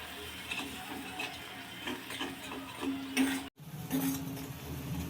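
Spices such as red chilli powder, homemade black masala and garam masala being sautéed in a pan for a masala bhaji: quiet crackling sizzle with light spoon taps and stirring, a brief cut near the end.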